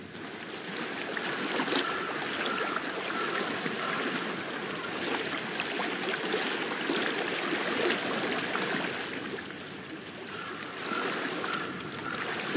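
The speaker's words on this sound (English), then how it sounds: "I hear water. Go to it." Continuous rushing flow of a stream in the video game Hellblade: Senua's Sacrifice, a steady broadband wash of water with gentle swells, moderately quiet and unbroken, with no speech.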